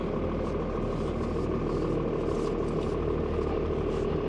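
A 1995 Dodge Ram 2500 4x4 diesel in four-wheel-drive low crawls over gravel, its engine a steady close rumble under continuous crunching clatter from the tyres, with no talk.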